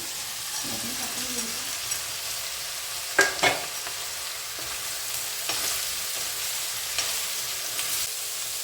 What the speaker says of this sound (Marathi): सगळे मसाले छान परतून झाले आता त्याच्यामध्ये सोयाबीन टाकून घेऊ आपण जे उकळलेले